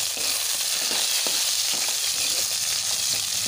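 Onion, green chilli and curry leaves fry in hot oil with a steady, dense crackling sizzle and a few faint stirring scrapes, close and continuous throughout.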